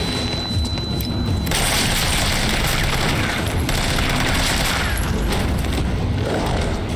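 Grenade explosion in Resident Evil 3 Remake: a loud, sustained roar of blast and debris that fills the whole span, with crashing, rumbling layers and no clear pauses.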